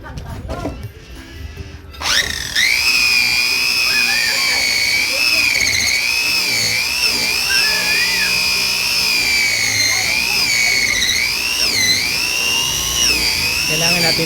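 A power buffer polishes car paint with rubbing compound during a scratch repair using touch-up paint, giving a loud, steady high-pitched whine that runs continuously after a short quieter start.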